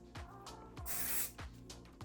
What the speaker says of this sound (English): we're going to take the hairspray, and I'm spraying it about 8 to 10 inches away